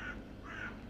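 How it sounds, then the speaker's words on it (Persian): Crows in autumn giving two faint, rasping caws about half a second apart, distant and soft over a quiet background. "پاییز که میاد صدای کلاغ هم میاد."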